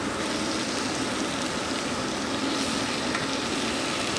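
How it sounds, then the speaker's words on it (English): Porcini mushrooms sizzle and fry steadily in a hot pan, a dense, even crackle close by that carries on without a break and with no one speaking. "that's all the liquid coming out of the porcini mushroom"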